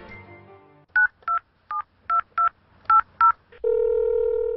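A string of eight distinct touch-tone beeps as a telephone number is keyed in, spaced irregularly, followed by a steady ringback or dial tone; close and clear with no talking.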